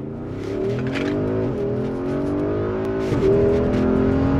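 A Porsche Cayenne Turbo with a sport exhaust accelerates hard across an open field, its engine note climbing loudly in rising sweeps and briefly dropping at gear changes, with no one talking.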